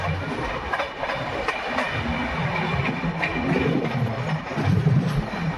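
The 18574 Bhagat Ki Kothi–Visakhapatnam Express passenger train runs through Kushtala station without stopping, a loud steady rumble of wheels on rails heard from inside, with faint rhythmic clacks and no voices.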